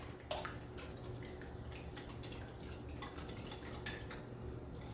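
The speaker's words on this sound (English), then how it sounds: "we're going to whisk these eggs up" Eggs being whisked in a bowl for an old-fashioned bread pudding custard, a rapid run of light clinking taps against the bowl that carries on steadily, close and fairly quiet, with no talking.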